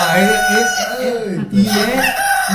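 A person's voice imitating a rooster crowing, a loud, close, drawn-out wavering call that breaks briefly midway and resumes, with no other sound around it.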